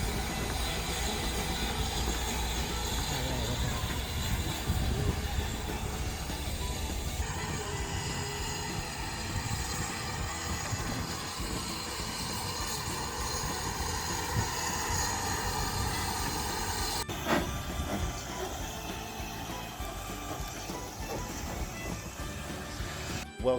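A train rumbles along continuously with steady, noisy clatter and hiss, a slight change in tone partway through, and no voices.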